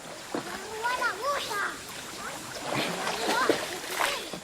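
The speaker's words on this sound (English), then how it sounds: "Other children who do not go to school are playing in the water." Children splash and play in river water near a jetty, with choppy splashes and sloshing under lively high-pitched kids' shouts and chatter throughout.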